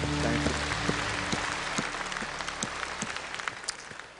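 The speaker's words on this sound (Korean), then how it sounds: "하나님께 영광의 박수를 드립니다" Church congregation applause in praise of God at Hallelujah Church: sustained, dense clapping from a large group, steady and moderately loud, with a faint low tonal hum beneath at the start.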